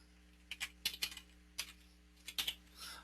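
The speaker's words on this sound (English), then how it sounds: "Okay, so I'm typing Nathan back in here" Fingers tap out a short burst of keystrokes on a computer keyboard, a few quick clicks in small clusters, close and quiet against a faint electrical hum.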